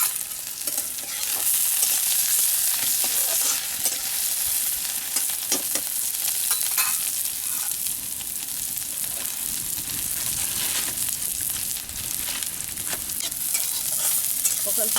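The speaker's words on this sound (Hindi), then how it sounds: "प्याज पड़ रहा है तेल में" Sliced onions sizzle in hot oil in a pan while cooking kaniseri saag, a continuous bright hiss with occasional crackles and the scrape of stirring, close and steady throughout with no talk.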